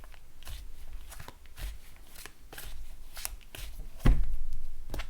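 A Rider-Waite tarot deck is shuffled and cut close by, with quiet riffling and a string of crisp card snaps ending in a firmer slap as the deck is set down.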